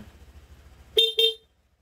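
Two short, sharp beeps of a stock Honda Click V2 scooter horn sound close by after a low idling hum, then silence.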